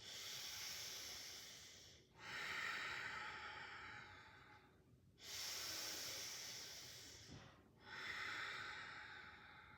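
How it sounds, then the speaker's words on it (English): Slow, deep yogic ujjayi breathing held in a back bend during a strength and stability flow: long, steady hissing breaths, close and soft, each lasting a few seconds with brief gaps between. "We're going to pause here for 2 more victorious breaths."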